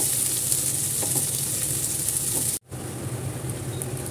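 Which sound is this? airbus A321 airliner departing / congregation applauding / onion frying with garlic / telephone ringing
onion frying with garlic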